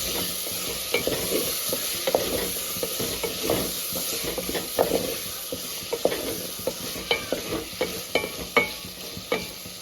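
Ginger garlic paste frying and being stirred in a pan, a steady low sizzle under repeated scraping strokes of a spoon that grow sharper and more frequent toward the end, close and fairly quiet with no talk.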